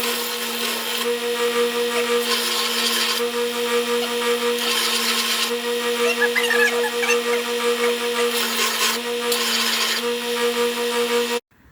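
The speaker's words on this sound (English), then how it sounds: "after sanding" A wooden sawtooth fighting stick being sanded by a power tool, a steady close-up motor whine with strong tonal hum and rhythmic swells of abrasive rasping, then cutting off abruptly at the end.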